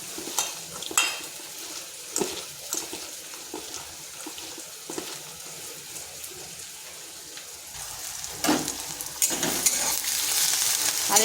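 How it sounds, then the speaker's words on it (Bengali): Onions fry in a pan toward reddish brown, a continuous close sizzle punctuated by stirring clatters and utensil knocks, with a rushing burst of running water near the end. "আর এদিকে পেঁয়াজটা লাল লাল করে ভেজে নিচ্ছি।"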